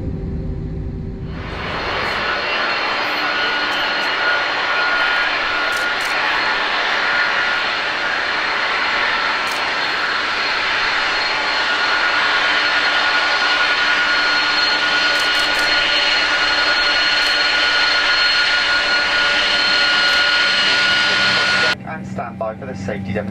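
Airliner engines spool up for takeoff in Microsoft Flight Simulator 2020 at Barbados. A loud, steady jet roar with a high whine sustains for about twenty seconds before cutting off, and a voice is heard at points.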